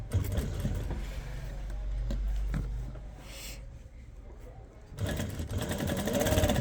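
A sewing machine stitches patti lace onto a dupatta in two spells of running, a longer stretch, a quieter gap, then another run, with faint handling noises between.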